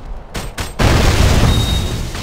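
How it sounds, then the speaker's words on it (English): A defense tower collapses during a fortress siege battle in Lineage 2 Revolution. Short bursts are followed by a loud, sustained rumbling explosion that runs to the end. "The red team's defense tower has been destroyed."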